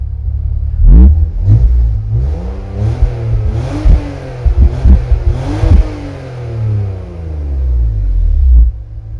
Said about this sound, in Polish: damy trochę gazu, żeby Wam pokazać jak brzmi otwarty podwójny wydech